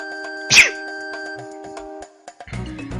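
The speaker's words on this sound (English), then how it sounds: "I gotta sneeze." A single sharp sneeze bursts out near the start over a steady electronic tone from a Final Fantasy VI game, followed by quieter game sounds.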